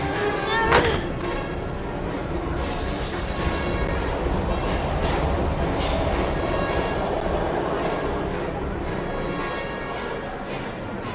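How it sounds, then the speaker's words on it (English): A steady rumbling train in a video game rolls along with rattling and a faint screech, continuous and fairly loud throughout. "We've got to get on that train, Ethan."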